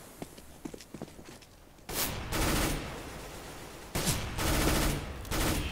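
Gunfire in a video game match: scattered faint taps give way to two loud stretches of dense rapid shooting, close and intense, with brief pauses between the bursts.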